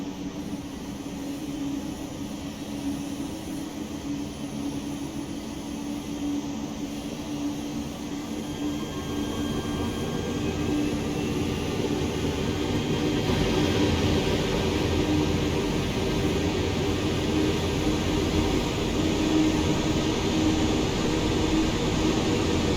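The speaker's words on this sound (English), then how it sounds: "about driving the TGV is just how quickly such a long train accelerates" A TGV Duplex high-speed train accelerating in Train Sim World 6 on the run from Avignon TGV toward Marseille: a constant droning engine and rolling roar that builds gradually, with no talking.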